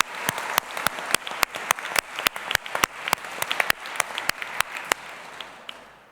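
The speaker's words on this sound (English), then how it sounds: "So, another round of cheer?" A graduation ceremony audience applauds in a dense, steady wash of clapping with a few sharp individual claps standing out, fading off at the end.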